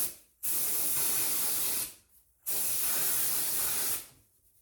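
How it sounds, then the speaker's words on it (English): Two long hissing bursts of dry shampoo aerosol spray at the hair roots, each lasting over a second with a short pause between, close and steady. "And then I just like to give it a little spray right at the root."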